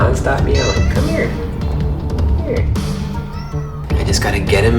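An abandoned kitten cries in repeated, insistent meows, close and loud, with a person talking over some of the calls.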